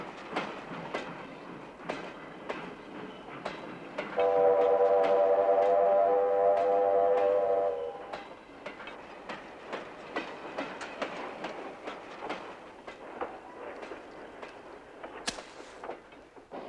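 A train rattles along the rails with rhythmic clickety-clack, and a steady horn-like tone sounds for a few seconds midway.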